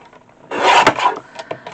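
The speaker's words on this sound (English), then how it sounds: "I've got some scrap here, and I'm just going to trim it down" Scrap cardstock cut on a paper trimmer, one short, close rasping slide of the blade lasting under a second, followed by a few light taps, no talking.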